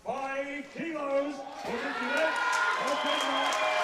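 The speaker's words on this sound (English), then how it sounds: "I'm sure you can hear the crowd at home" A crowd at the World Equipped Open Powerlifting Championships cheers in a steady, swelling roar that grows fuller partway through, running beneath continuous commentary from a voice.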